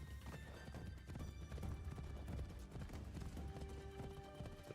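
Steady clip-clop of horse hooves at a trot in Assassin's Creed Shadows, a quiet continuous rhythmic patter under soft game ambience and music tones.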